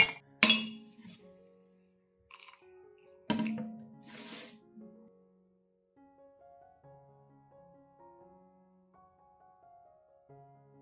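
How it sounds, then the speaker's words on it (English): Frozen shallot ice cubes, three to five of them, drop and clink against a cup in two sharp knocks, then settle with faint, scattered ticks and rattles as they shift in a quiet room. "put 3 to 5 shallot ice cubes into a cup"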